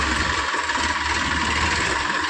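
A tractor engine runs close by with a steady, loud rumbling drone, constant throughout with no speech.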